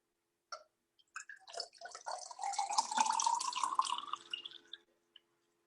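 Water is poured into a glass, gurgling and bubbling like beer for about four seconds, close and moderately loud, with a few small drips at the start and end.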